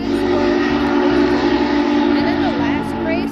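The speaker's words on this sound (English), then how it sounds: "And when there's a train." A train rolls past at an outdoor fall festival with a corn maze and pumpkin patch, a steady loud rumble with a whistle-like tone, while people talk over it.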